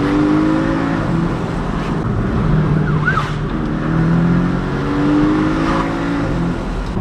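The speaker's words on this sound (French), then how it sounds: "Tu mets le pied dedans en deuxième, voilà ce que ça donne." A Porsche engine pulls hard through second gear, a loud, sustained rising drone with smooth tonal bands climbing steadily, no pause, over about seven seconds.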